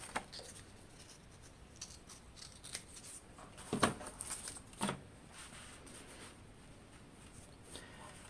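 Scissors cutting paper for a handmade book cover, a few soft snips and rustling slides of paper up close, with two sharper cuts in the middle, quiet and without talk.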